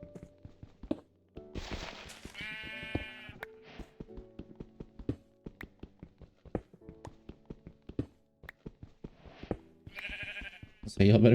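Sheep in Minecraft let out a few scattered bleats between repeated block taps and footsteps, with a person talking throughout.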